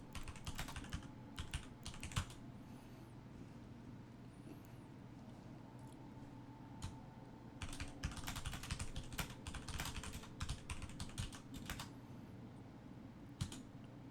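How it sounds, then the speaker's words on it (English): Someone types on a computer keyboard during an EVE Online gaming session. Soft, close key clicks come in irregular bursts with short pauses and a faint background hum. "just typing stuff"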